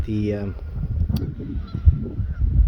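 A mother goose gives one loud, near honk at the start, followed by low rumbling outdoor noise and faint movement.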